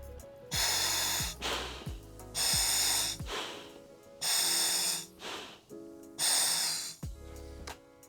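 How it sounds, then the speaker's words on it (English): Four slow breaths drawn through a scuba regulator during a gear check, each inhalation a loud hissing rush followed by a bubbly, rattling exhale, close by and steady in rhythm with no talking. "check that our air is on by looking at our gauge while we take 4 breaths"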